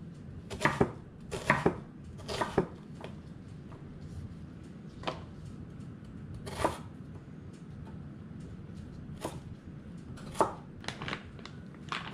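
Knife chopping vegetables on a cutting board in a home kitchen during curry meal prep, with an Instant Pot sautéing nearby. Irregular bursts of close, crisp knife strikes, clustered early, then sparser single chops over low background hum.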